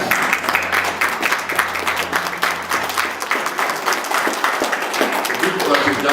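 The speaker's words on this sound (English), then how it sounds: "I would love to clap for you." An audience applauds parents standing at a gathering, sustained dense clapping from many hands that continues evenly throughout, with low hum and some voices mixed in underneath.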